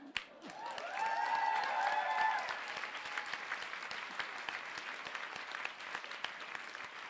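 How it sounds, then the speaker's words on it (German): Audience applause on a comedy podcast, a sustained crowd clapping at moderate level with a brief melodic tone near the start, continuing steadily and fading slightly over seven seconds. "Fashion ist einen Applaus wert"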